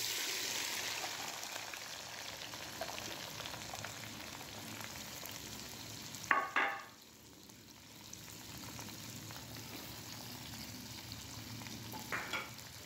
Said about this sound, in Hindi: इनको हल्का सा फ्राई करूँगी, ज़्यादा फ्राई नहीं करना।